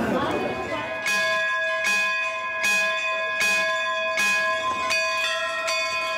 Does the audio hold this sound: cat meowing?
no